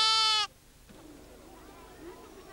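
A single sheep in the Middle Atlas gives one loud, close bleat at the start, followed by quiet background noise and faint voices.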